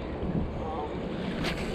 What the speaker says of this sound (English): It's a little windy for casting, but it's doable